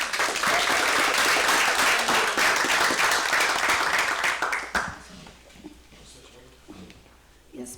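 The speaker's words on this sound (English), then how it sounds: "So let's give her a round of applause." An audience at an evening talk on house hacking and turning property into profit bursts into dense, loud applause that holds steady for several seconds, then tapers off with scattered claps and murmuring.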